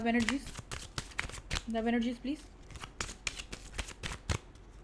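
Tarot cards are shuffled during a reading, producing quick riffling flutters and soft slaps in short bursts beneath a speaking voice that continues throughout.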